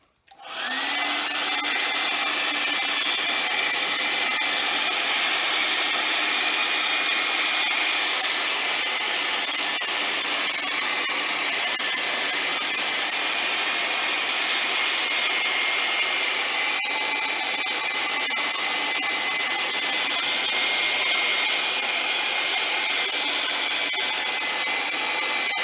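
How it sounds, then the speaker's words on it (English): A hair dryer runs continuously to dry coats of paint, a loud, steady whirring roar close up that starts abruptly and holds unchanged for about 25 seconds. "So I know that hair dryer is crazy loud"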